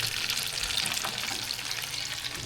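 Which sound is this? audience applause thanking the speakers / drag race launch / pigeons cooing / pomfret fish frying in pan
pomfret fish frying in pan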